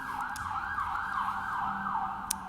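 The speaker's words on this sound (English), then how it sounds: "wait for the ambulance to go by" An ambulance siren passes outside during a Scranton city council meeting, its wailing tone rising and falling steadily at moderate distance and fairly faint, with no talk over it.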